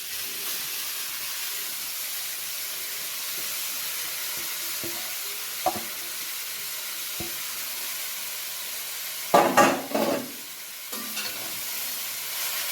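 Carrots frying in ghee give a soft, continuous sizzle with a few scattered pops and clicks, then louder bursts of hiss and scraping as they are stirred near the end.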